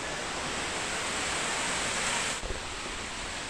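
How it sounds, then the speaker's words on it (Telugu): Water pours steadily down built stone steps at Jhari Waterfalls near Chikmagalur, Karnataka, a dense, even roar that holds close and loud throughout, with a brief knock near the end. "ప్రజెంట్ ఇక్కడ ఒక వాటర్ ఫాల్స్ ఉన్నాయి, చూడండి"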